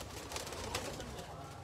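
Teddy pigeons coo on a rooftop in Tajpura, a soft continuous murmur of cooing with steady low background noise throughout, no clear separate calls.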